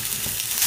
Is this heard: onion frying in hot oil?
yes